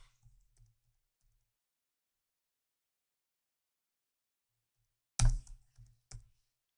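A few scattered clicks on a computer keyboard, faint at first, then a louder quick burst of keystrokes near the end in an otherwise quiet room.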